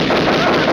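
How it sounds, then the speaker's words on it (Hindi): Gunfire erupts in a Hindi action movie scene as a loud, dense burst of rapid shots filling a very short moment. "Stop the firing, stop the firing."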